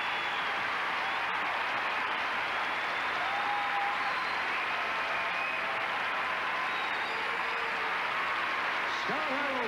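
Sustained standing ovation from an arena crowd for figure skater Scott Hamilton, a dense, steady wash of applause and cheering that fills the space throughout.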